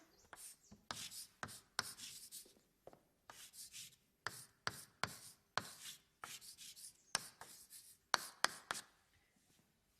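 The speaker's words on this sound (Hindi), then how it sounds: "कुछ ऐसा लिखते थे विंची साहब।" Handwriting scratches out in quick bursts of pen or pencil strokes against paper, close and crisp, separated by short pauses, with no voices.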